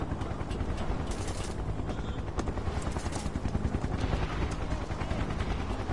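Gunfire in Final Fantasy VII Remake: rapid bursts of shots crackle over a constant loud whirring drone, with a dense, busy battle texture throughout.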